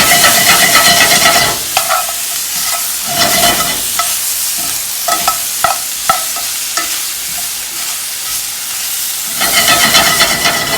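Pork cubes fry loudly in a cast iron pan, a close, bright sizzle punctuated by clacking stirs and turns, with the hiss dipping and swelling between them.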